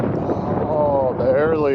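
Strong wind roars steadily around a truck hauling a pipe tub through snowy conditions, a broad rushing noise filling the whole stretch as a voice talks over it.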